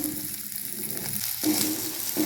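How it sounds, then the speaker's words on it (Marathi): Green chilies and garlic roast in a pan with a little salt, giving a close, continuous sizzle with faint stirring and scraping throughout. "चांगले लालसर भाजून घ्यायचे आपल्याला हिरव्या मिरच्या"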